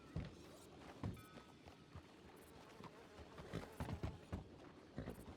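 Horse hooves clip-clop in a Western video game, irregular thuds at walking pace mixed with other game sounds and talk.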